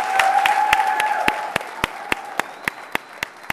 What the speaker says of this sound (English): Give RAM a big round of applause.